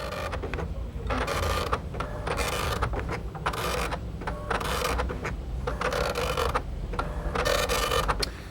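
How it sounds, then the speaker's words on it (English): An Amstrad near-letter-quality dot matrix printer prints in a rhythmic series of rasping, buzzing print-head passes, roughly a dozen strokes with brief gaps between them, close and steady, with no talk. "And this is a near letter quality printer as well?"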